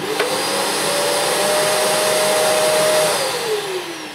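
Hoover Eco G Telios TTG1100 vacuum cleaner motor whirring steadily at close range, holding a whine that rises slightly before easing off at the end, with no voices.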